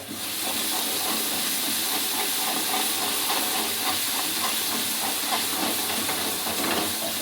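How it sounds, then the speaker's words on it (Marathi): A masala paste of coconut-roasted onion and tomatoes sautés in oil with a loud, continuous sizzling hiss and faint scraping of stirring throughout. "व्यवस्थित परतून घ्यायचं असं चांगलं"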